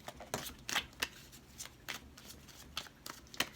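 Tarot cards are shuffled by hand in short riffling bursts, soft and close, with irregular pauses between each pass and no talk.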